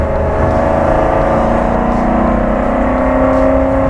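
A 1967 Shelby GT500 Eleanor V8 engine pulls in third gear, a loud, steady, close-up drone whose pitch climbs gradually as revs build, with no speech.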